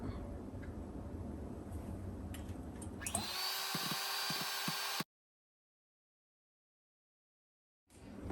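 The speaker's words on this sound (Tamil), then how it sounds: "ஹெவி க்ரீமை ஊற்றி நம்ம இப்போ பீட் பண்ணிக்கலாம்." An electric hand mixer whirs steadily as it beats heavy cream for homemade ice cream, a loud close motor whine lasting about two seconds with a few brief stutters, then it cuts out abruptly into silence.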